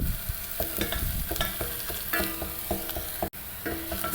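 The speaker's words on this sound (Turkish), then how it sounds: "Salçamla da şöyle 1-2 dakika kavuracağım." Chopped onions and tomato paste sizzle steadily in a pan while a utensil scrapes and stirs them in repeated strokes, close and continuous, with one brief cut near the end.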